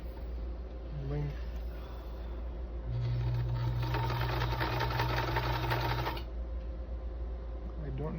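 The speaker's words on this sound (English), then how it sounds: "So it's doing a straight stitch, but it's going forward, back, and forwards again." A Kenmore model 148 sewing machine runs a triple straight stitch, forward, back and forward again, as a steady close whirring hum lasting about three seconds, with brief quiet handling sounds before and after.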